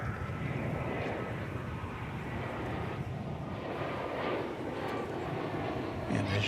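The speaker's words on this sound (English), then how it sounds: "We've got American Flight 1932 coming in from" American Airlines Flight 1932 from SLP, a jet in America West heritage livery, arrives at DFW Airport with a steady, full engine roar that stays loud and constant throughout.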